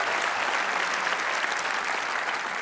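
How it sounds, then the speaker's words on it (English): Large audience applauding at the Academy Awards ceremony, a dense, loud, sustained wash of clapping with no pauses. "which, yeah, you better applaud for that"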